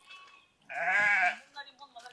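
A female sheep from a shepherds' flock kept in an areca plantation gives a single clear, wavering bleat close by, with quieter murmurs and shuffling around it.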